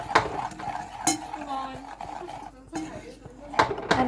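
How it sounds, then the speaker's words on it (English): Caramel sauce being mixed with butter in a pan, with a spoon scraping and clinking against the sides and some faint bubbling, soft and close, interrupted by sharper metal taps. "So it's gonna keep mixing."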